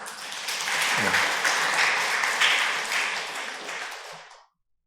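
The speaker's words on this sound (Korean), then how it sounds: "나오실 때 크게 박수 한번 해주세요." Church congregation claps loudly as an elder comes forward during a Korean afternoon praise service, a dense wash of applause lasting about four seconds before cutting off abruptly.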